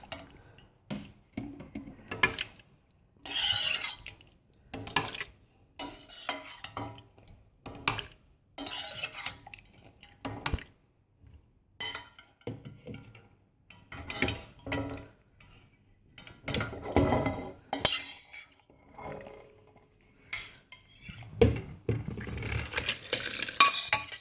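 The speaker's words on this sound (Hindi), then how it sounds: "अब मैं इसको एक जाली में ग्राइंड करूँगी।" Intermittent scraping and clinking of a utensil pressing tomato pulp through a metal strainer for homemade ketchup, quiet and close, in irregular bursts with short pauses.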